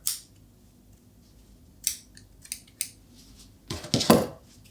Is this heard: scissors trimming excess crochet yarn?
yes